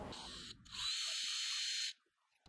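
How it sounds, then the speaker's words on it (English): A power drill boring a hole through aluminum clamped to plywood with a self-centering jig: a short whir, then a higher steady grinding burst of about a second that stops abruptly, close and fairly quiet. "I can drill the first hole using my self-centering jig"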